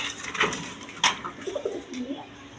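Male Indian Kala Dum pigeon cooing close by, a few low rolling coos following a sharp rustle, with faint background noise.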